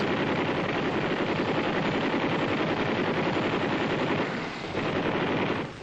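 A 7.62 machine gun system, the Army XM6 kit, fires a sustained, dense, loud burst of rapid shots that rolls on without pause for several seconds before cutting off.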